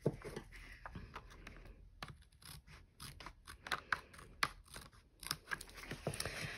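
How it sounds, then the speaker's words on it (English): Scissors snipping the corner off a vellum card, a run of close, crisp cuts and papery rustles in quick irregular bursts, with no one talking. "So again, you've got this little bit to trim off the corner."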